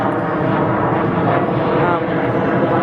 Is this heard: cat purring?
no